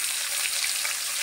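Green chilli dropped into a hot pan with cinnamon gives a loud, dense, continuous sizzle with nothing else over it.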